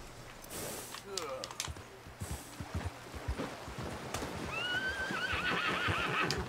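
Video game horse in Red Dead Redemption 2 whinnies and snorts over steady clip-clop of hooves, with a faint mechanical rattle, moderately close and continuous.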